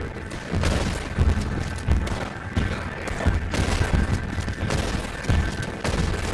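Gunfire in Red Dead, a Western video game, comes as a run of sharp shots with booming low thumps spaced irregularly over several seconds, mixed with clatter and background game noise.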